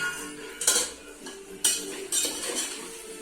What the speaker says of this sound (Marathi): वाटाणा ते टाकला तर त्याला परतून घ्यायचं